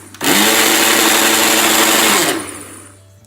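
A kitchen blender whirs loudly for about two seconds, mixing a buttermilk shake of yogurt, curry leaves, salt and water, then spins down to a quieter fading hum.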